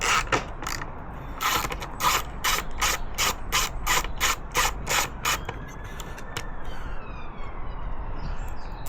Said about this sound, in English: I'm just gonna get some new bolts in the airbox.